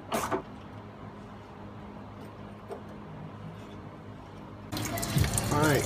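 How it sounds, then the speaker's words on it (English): Coolant draining from an MK4 Jetta engine during removal of a blown turbo: a steady, low trickle and splatter of liquid that swells into louder, closer splashing toward the end, with brief faint voice sounds. "coolant is draining, it's making a mess everywhere, but it's draining"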